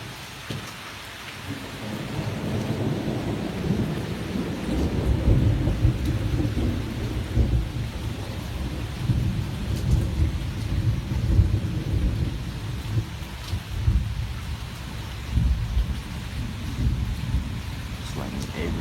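A heavy thunderstorm roars outdoors as dense heavy rain pours steadily and deep rolling thunder rumbles underneath for the whole stretch. Faint wind is mixed into the downpour.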